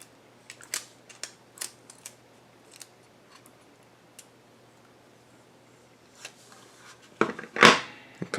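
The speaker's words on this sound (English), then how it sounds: "Peel off the plastic." Protective plastic film is peeled off an electronics kit, a KIM-1 clone board. Sparse light clicks and ticks lead into a louder, close crackling rustle of plastic near the end.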